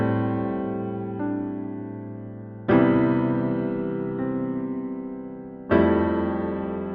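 Sustained piano chords over a low bass line, new chords striking every second or so and ringing out in a slow, layered progression.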